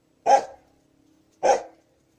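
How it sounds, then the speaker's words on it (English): A dog, apparently one that lives in a house beside a garden, barks twice, loud and close, with about a second of quiet between the barks and no voices. "they were barking like mad"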